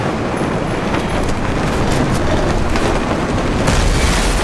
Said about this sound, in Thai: โอ้ยระเบิด